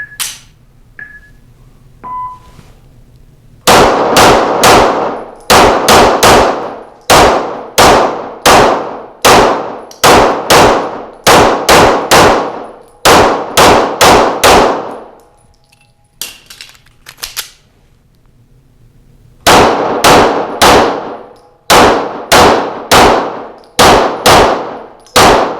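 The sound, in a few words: Walther PDP pistol shots hitting moving steel targets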